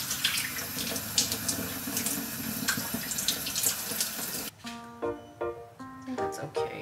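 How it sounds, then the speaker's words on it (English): Running tap water splashes steadily into a sink while dried squid is rinsed under it, loud and close for several seconds, then the flow cuts off abruptly and a voice speaks. "I'm gonna give it a wash and then heat it up over the stove."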